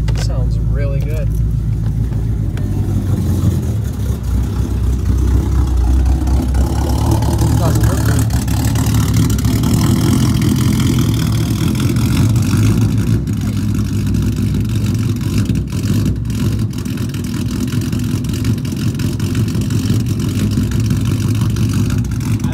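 A 2014 Mustang GT V8 on E85 fuel idles steadily with a low rumble and loping throb, close by and loud, with a person talking over it.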